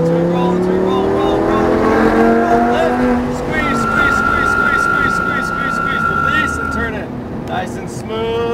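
A Lamborghini Huracán LP610-4 engine winds up and shifts on the Sonoma Raceway track, its rising whine heard from inside the cabin beneath an instructor's talk.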